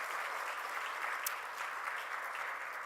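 A church congregation applauds its choir and orchestra during a worship service, a faint, steady wash of clapping heard from a distance with no speech over it.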